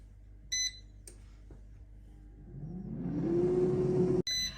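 An air fryer cooking frozen sesame chicken: two short electronic beep bursts, then a rising motor whir that settles into a steady hum, ending with another beep sequence.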